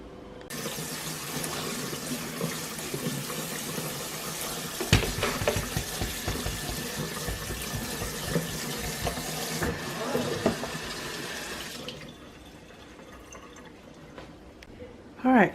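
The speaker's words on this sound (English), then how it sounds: "pour it out in the colander, and run some cold water to let it cool" Cold tap water runs steadily from a kitchen faucet over cooked pasta in a colander at the sink, a continuous splashing hiss that stops near the end, with a voice talking over it.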